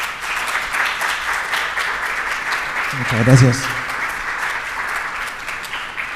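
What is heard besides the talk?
applause for the four panelists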